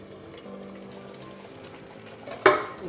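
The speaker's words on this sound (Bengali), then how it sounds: "হিট একদম স্লো করে দিয়ে দইয়ের কাঁচা গন্ধটা যাওয়া অবধি খুব ভালো করে এইভাবে নেড়ে নিতে হবে" Yogurt masala for a Bengali fish curry cooks on low heat with a faint, quiet sizzle and gentle stirring, then one sharp clatter of the spoon against the pan near the end.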